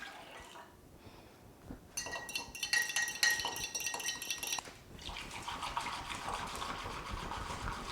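Creamer packet drink being whisked in cold water: a burst of rapid, rattling clinks and swishes against the cup, with a faint hiss of water. The whisking is loudest in the middle, then continues as softer, steady swirling.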